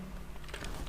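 A few soft keystrokes on a computer keyboard while code is typed, brief and fairly quiet, with no talking.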